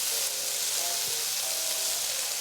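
Tomato wedges stir-fry with ginger and red onion in a hot pan for a Chinese tomato and beef noodle dish, giving a steady, loud sizzle throughout with faint scraping and stirring, and no talk.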